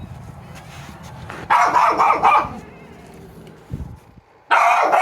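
Dogs bark loudly in two bursts of rapid, overlapping barks, close by, with a quieter pause between them.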